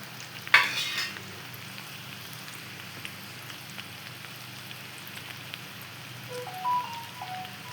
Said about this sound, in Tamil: பூண்டும் சேர்த்து நல்லா வதக்கிக்கலாம்.